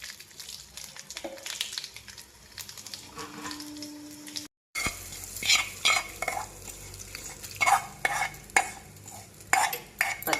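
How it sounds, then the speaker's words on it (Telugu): Tempering of spices, red chillies and cumin sizzles in a pan for urad dal chutney, with close scraping stirs and sharp metallic clinks of the spoon against the pan in the second half after a brief gap. "ఇట్లా తాలింపు వేసేసుకుని ఒకసారి మొత్తం కలిపేసుకుందామండి"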